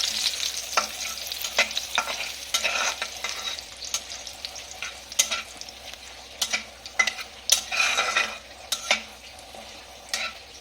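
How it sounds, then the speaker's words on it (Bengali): Cloves and cardamom fry in ghee for an egg rezala, a steady close sizzle broken by repeated scrapes and clinks of a spoon stirring the pan, with no talking. "এটাকে একটু ভালো করে ভেজে নেব।"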